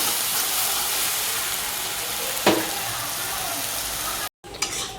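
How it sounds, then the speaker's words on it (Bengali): Egg curry masala frying in a pan, a continuous close sizzle with an occasional stirring scrape, briefly cut off near the end before resuming. "এখানে আমি ডিম কষার মশলাটা তো বসিয়ে দিয়েছি, দেখো এখন কষা হবে"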